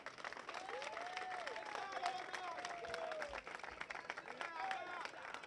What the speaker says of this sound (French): Vous applaudissez pour elle.